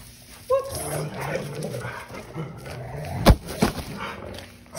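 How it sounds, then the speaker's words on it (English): Two excited dogs come into a barn, heard up close as scrabbling movement, whimpers and a couple of sharp barks or thuds, with a faint voice in the background. "that was two crazy dogs coming in"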